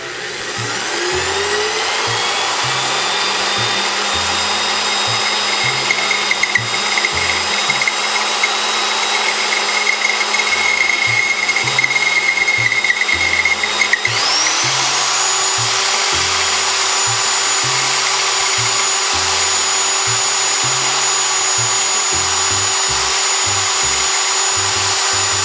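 A hand-held drill bores into a Mercury inline-six rectifier part with no drill press, a loud steady motor whine lasting the whole stretch with rhythmic low pulsing, the pitch rising partway through as the speed picks up.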